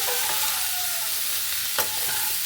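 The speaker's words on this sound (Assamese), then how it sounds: "এতিয়া আমি এইখিনি ধুনীয়াকৈ লৰাই দিম ইয়াত একো নিদিওঁ কেৱল হালধি কেঁচা জলকীয়া আৰু পিঁয়াজ" Green papaya stir-fried in a pan with turmeric, green chili and onion: a steady close sizzle with scraping stirs and one sharp clack near the end, no talking.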